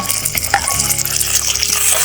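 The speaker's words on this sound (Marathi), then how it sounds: "टमाटा पण छान मऊ होईपर्यंत आपण तेलात परतून घेऊया" Chopped tomato sizzling in hot oil over sautéed onions for an Indian dal palak, a steady close frying crackle and hiss with small stirring clinks throughout.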